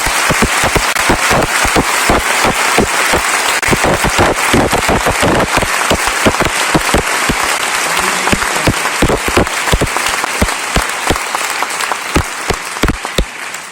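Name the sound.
audience applause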